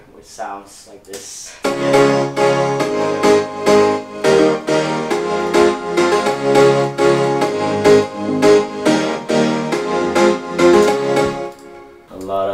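Layered production of several synths and pianos, with sustained chords and a steady pulsing rhythm, loud and full, playing alone without talk.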